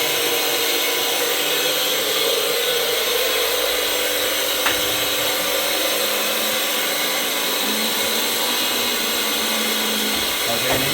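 A small electric drill runs steadily with a continuous whine and buzz in a job shop, loud and unbroken for the whole stretch, with no talking.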